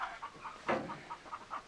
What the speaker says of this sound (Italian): E poi ci sono anche le galline,